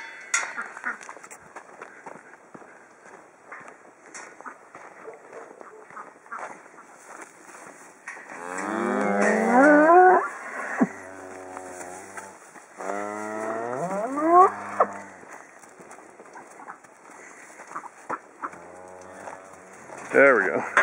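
Cows being herded home moo in a few long, drawn-out calls, some near and loud, with quieter rustling and footsteps in between.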